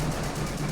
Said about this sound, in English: I have no clue what that explosion was.